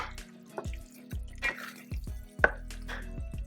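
Ginger and garlic paste is stirred for butter chicken, giving soft wet squelches and scrapes in an uneven rhythm, close and quiet, with no talking.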